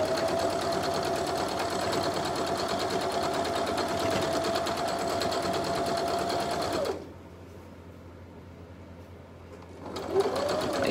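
A sewing machine stitches a quilt seam for a pinwheel block, giving a fast, steady whirring run for several seconds before it stops, then briefly starting up again after a short pause.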